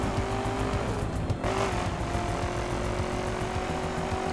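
A car in The Crew drifts with its engine roaring steadily and tires squealing and skidding, one sharper screech standing out partway through, close and continuous.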